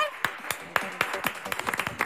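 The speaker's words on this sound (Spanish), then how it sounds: "¿Les damos un aplauso, por favor?" Scattered audience hand claps at a Spanish-language talk on avoiding food waste, sharp separate smacks at a quick, uneven pace over about two seconds, fairly close, with a few voices faint underneath.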